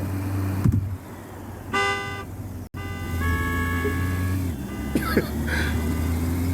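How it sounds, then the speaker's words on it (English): A car horn in a video game honks in several short and longer blasts over a steady engine hum, loud and close. "Like, stop honking at me."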